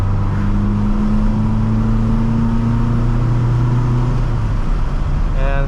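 A 1965 Volvo 544 with a four-speed gearbox cruises in fourth gear, its engine droning in a steady, even hum with road noise, heard from inside the car and continuous throughout.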